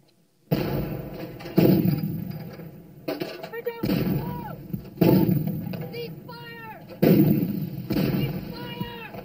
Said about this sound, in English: Our own artillery is dropping a barrage directly on us.